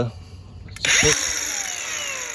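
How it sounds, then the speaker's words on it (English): A Bauer brushless 20-volt, 3-amp lithium electric grinder from Harbor Freight spins up abruptly into a loud, high whine that then holds steady, close by after a quiet start. "I'm using my little Harbor Freight electric grinder"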